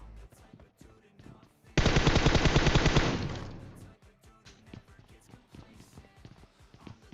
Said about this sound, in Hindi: अब मैं गोली चलाता हूं